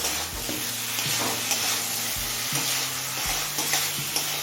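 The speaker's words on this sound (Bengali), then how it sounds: "বেগুন বরবটিটা দিয়ে মিনিট খানেক ভেজে নিলাম" Eggplant and yardlong beans frying in spiced oil, a steady close sizzle broken by repeated scraping stirs of a spoon in the pan, with no talk.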